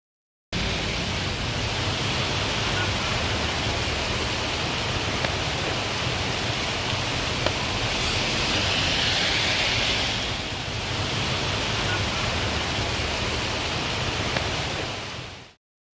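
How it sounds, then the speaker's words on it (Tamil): Heavy, sudden rain driven by strong wind during a thunderstorm in a Tamil Nadu district town, a dense, steady broadband roar that holds for the whole stretch with a slight swell midway and no voices. "திடீரென பலத்த காற்று இடியுடன் 1 மணி நேரத்திற்கும் மேலாக மழை பெய்தது"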